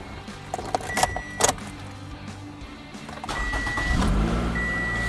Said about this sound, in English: now I'm gonna try to start the blue car because the blue car wasn't starting